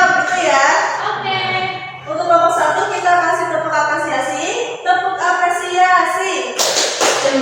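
Schoolchildren in a classroom perform a rhythmic appreciation clap, taps and thumps falling in a chanted pattern, with young voices speaking and chanting through it.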